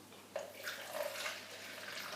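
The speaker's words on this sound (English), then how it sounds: "I'm just going to pour it into the measuring jug" White wine vinegar is poured into a measuring jug, giving a soft, continuous trickle and splash that stays quiet and close for about two seconds.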